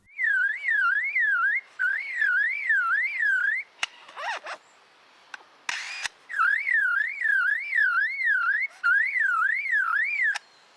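A lyrebird imitates a car alarm with loud, rapidly warbling siren-like whoops repeated in several runs, interrupted midway by clicks and brief mechanical rasps.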